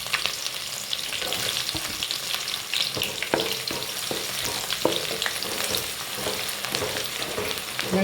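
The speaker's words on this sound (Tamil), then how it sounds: "வெங்காயம் நல்லா பொன்னிறமாக நல்லா வதங்கணும்." Small onions frying in a pan for a fish curry, a steady crackling sizzle with occasional stirring clicks, close and continuous with no voices.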